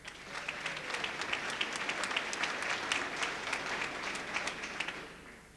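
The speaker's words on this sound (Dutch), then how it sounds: "Mijn assistente, daar mag ik ook gerne applaus voor hebben, Vera Herraats." An audience applauds steadily at the opening of a cable network in Horst, a dense wash of clapping that follows a men's choir performance and holds evenly throughout before fading at the end.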